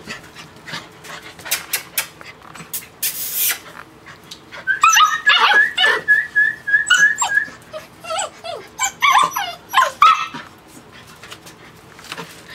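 A litter of male puppies barks and whimpers close by, with short yips and whines clustering in bursts over several seconds amid some background rustling.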